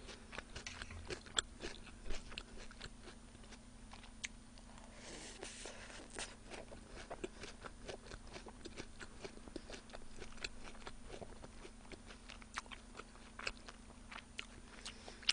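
Someone bites into crispy carbonara fried chicken from Chicken and Chips and chews it close to the mic, giving a steady run of sharp crunches and soft chewing sounds over a faint hum, with no speech.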